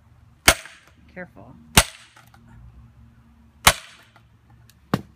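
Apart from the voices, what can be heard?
mallet striking axe, log cracking while splitting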